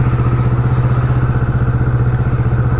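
A Kawasaki Vulcan S motorcycle engine idles loud and close, a steady, throbbing low rumble with an even pulsing beat that holds unchanged throughout.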